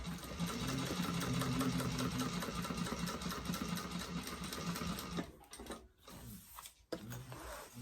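Sewing machine running a seam on a backpack front panel, then back stitching at the end, a steady close mechanical whir that breaks into short stop-start bursts toward the finish.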